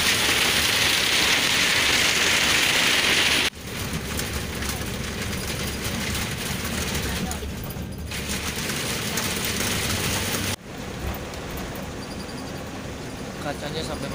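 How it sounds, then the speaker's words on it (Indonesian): Dense, steady rain and hail drum on a bus's roof and windows between Barcelona and Andorra, loud and continuous, with brief drops in intensity and faint voices underneath. "Jadi ini kita perjalanan bakal hujan dan hujan es nih."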